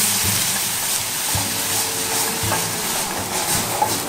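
Water poured into a hot pan to deglaze the browned bits for a beef bourguignon, giving a steady broadband sizzle with a few low knocks and stirring scrapes, close and continuous.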